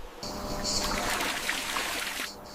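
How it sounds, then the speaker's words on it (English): Rushing water flows steadily through marble channels on a terrace with a bright splashing hiss, starting abruptly and running evenly close by before cutting off near the end. "The water flows rapidly through the complex network of marble channels on the top terrace."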